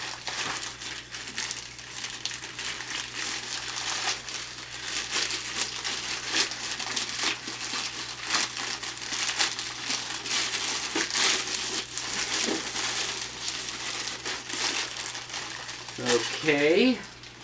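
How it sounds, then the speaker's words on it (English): Plastic packaging crinkling and crackling during an unboxing of a cut-down flat rate box, in continuous close rustling bursts, with a brief voice near the end. "insanity of packaging material these days. And this plastic doesn't feel recyclable."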